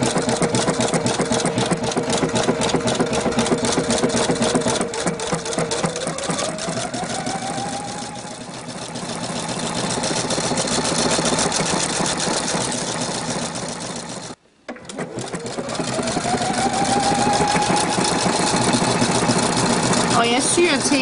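A sewing machine stitches a yarn bracelet in steady mechanical runs, with a brief stop near the middle before it resumes, loud and close throughout.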